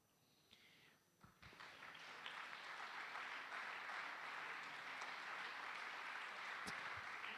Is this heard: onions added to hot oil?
no